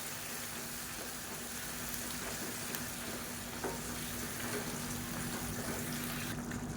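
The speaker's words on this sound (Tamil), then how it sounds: "சேர்த்துட்டு நல்லா கலந்து விட்டுக்கலாம்" Cabbage and lentils stirred into onions frying in a pan give a soft, continuous sizzle with faint scraping of a spoon, quiet and close, with no talking.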